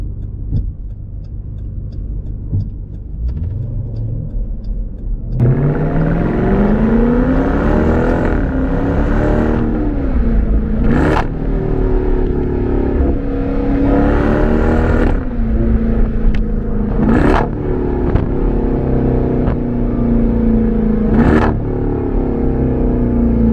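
A supercharged V8 Jeep Trackhawk revs up with a rising supercharger whine. It downshifts several times, and each shift brings a sharp engine blip and crackling exhaust pops. The sound is loud and close, with no talking.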